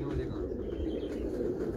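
A flock of pure-bred Imamdeen pigeons, kept for 15 or 16 years, coos in a steady, dense murmur nearby, with a voice talking over it.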